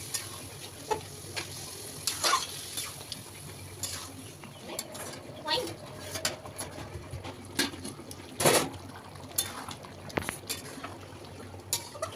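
Marinated meat for biryani sizzles and crackles in a hot pan while a utensil scrapes and stirs in irregular bursts, with occasional clanks.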